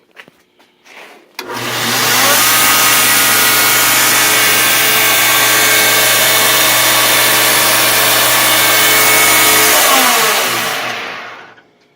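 A belt grinder switched to high speed starts with a quick rise, then holds a loud, steady motor whine for about eight seconds before winding down to silence.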